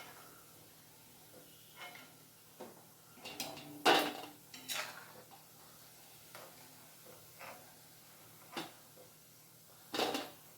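Fried wheat-flour biscuits being lifted from a pan onto a plate, a handful of sharp metallic clinks and scrapes of utensil against cookware, spaced irregularly over a quiet kitchen background with faint sizzling.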